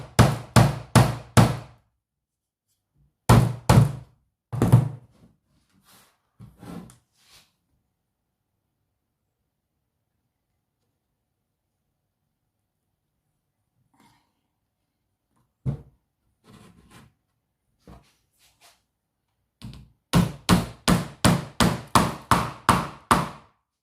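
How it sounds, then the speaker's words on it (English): Sharp hammer strikes punching holes in a homemade Christmas table centrepiece, loud close knocks in quick bursts of several blows, separated by long quiet gaps, ending in a fast run of about a dozen hits. "We're just going to use the hammer"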